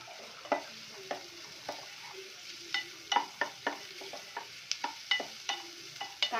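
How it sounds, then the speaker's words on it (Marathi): Onion sautéing in a pan for a traditional Bhogi vegetable dish, a soft steady sizzle broken by repeated scraping stir strokes at an irregular rhythm, close and moderately quiet with no talk. "कांदा पण आपण चांगला परतून घेणार आहोत"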